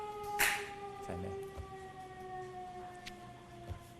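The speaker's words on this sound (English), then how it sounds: "I was just waiting for the siren" A faint, distant siren holds steady tones in a quiet courtroom during a murder trial, with a few soft clicks and bumps nearby.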